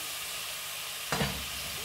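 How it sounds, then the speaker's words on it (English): Onions hit a pan for chicken fajitas with a splash of water from the kettle, a sudden loud burst of sizzle and steam rising over a steady low frying hiss, with no talking. "I'm going to add the onions so they get a chance to cook"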